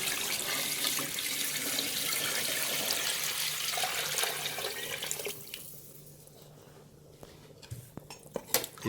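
Water is poured into a pot of browned fish for bouillabaisse, about two and a half litres: a strong, steady rushing stream that cuts off, then a few light clinks of cookware.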